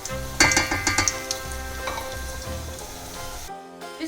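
Pastry frying in flavorless oil over medium heat gives a steady close sizzle with a cluster of sharper crackles and pops early on, then settles to a softer bubbling hiss.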